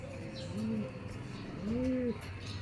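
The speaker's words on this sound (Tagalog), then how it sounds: "Ito young bird din yan" A three-month-old young bird, a pigeon or dove, gives two soft, close cooing calls, each a short rising-and-falling note, with a gap between them and steady low background hum.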